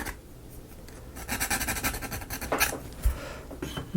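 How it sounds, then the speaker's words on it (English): Gentle, scratchy rasping of sandpaper rubbing back and forth on a small hard part of a Notre Dame de Paris scale model, close and steady, with a few louder strokes. "Just real gentle sanding on it."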